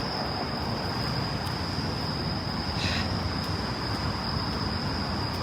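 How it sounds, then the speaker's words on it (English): Crickets chirp at night in a steady, thin high-pitched trill that runs unbroken over a soft background hiss. "you guys hear the crickets? It's amazing."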